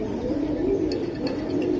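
Pigeons in a pigeon market or loft give a low, steady cooing with a few faint higher chirps, continuous and fairly close, with no talk.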